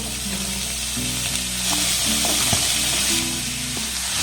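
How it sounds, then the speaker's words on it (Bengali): Capsicum, carrot, green chilli and beans fry in a pan for a chicken soup, sizzling loud and steady while a spatula stirs them with scraping knocks and one sharp clack near the middle. "সমস্ত সবজিগুলোকে একটু হালকা করে নাড়াচাড়া করে ভেজে নেব"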